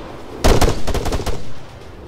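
Soldiers' rifle fire in the video game Arma 3 comes as a rapid burst of close, loud gunshots, several shots in quick succession, with no talk over it.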